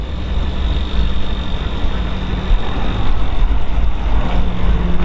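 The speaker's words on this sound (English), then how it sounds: "Get out and let you hear it run." A restomodded 1957 Ford Sunliner convertible with a 5.0 V8 idles steadily nearby, a dense continuous engine rumble that holds at an even level throughout, with faint road traffic behind it and no talking.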